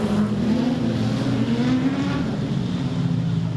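Production sedan race cars roar around the Maryborough Speedway during a heat of a national title round, a loud continuous engine drone with slowly shifting pitch from several cars racing together, with no voices.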